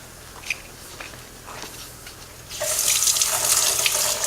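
Cold tap water starts gushing into a sink partway through while celery sticks are rinsed, a loud close splashing rush following a few quieter handling clicks and taps.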